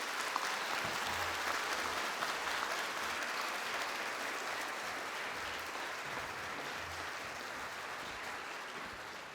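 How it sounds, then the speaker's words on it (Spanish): Steady audience applause for architect Francisco Serrano at an inaugural conference and scholarship presentation, a sustained wash of clapping at moderate distance that slowly fades. "Un aplauso para el arquitecto Serrano"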